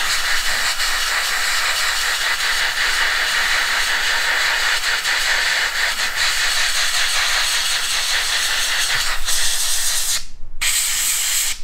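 An aerosol spray can coating a model Litening targeting pod, a loud, steady close hiss running unbroken for several seconds, then a brief stop and restart near the end, with no voices.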